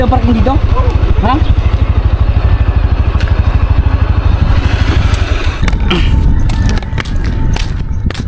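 A motorcycle engine idles nearby with a fast, even putter. People talk over it, and near the end the engine fades under clattering and footsteps.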